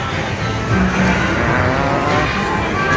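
The engine of a police car in an arcade driving game roars steadily and loudly while the accelerator is pressed, with game sounds blended into a dense, unbroken drone.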